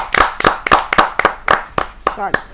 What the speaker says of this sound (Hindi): जरा जोरदार तालियों के साथ हम स्वागत करें उनको